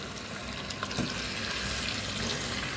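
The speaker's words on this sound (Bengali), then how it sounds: "এবার মুরগিটাকে ভালো করে ভাজতে হবে।" Chicken pieces frying in a pan with fried onions give a steady, close sizzle with faint stirring scrapes, continuous through the short stretch with no talking.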